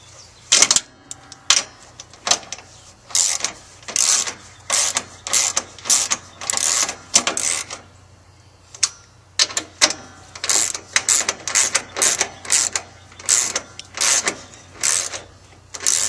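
A ratchet tightens the hood lock bolts on a Jeep Wrangler YJ in repeated bursts of sharp clicking pawl strokes, close up, with short pauses between runs and no talking.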